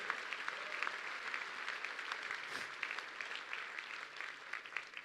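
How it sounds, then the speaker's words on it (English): Audience applause honoring an admiral at a talk, a steady sustained round of clapping from a crowd, moderately distant, with no speech over it. "a big round of applause for Admiral"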